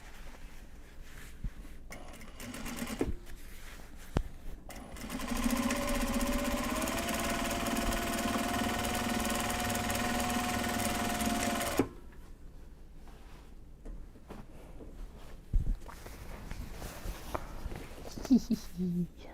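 A sewing machine runs steadily for several seconds while stitching Japanese fabric bags, bracketed by quieter handling sounds and faint talk.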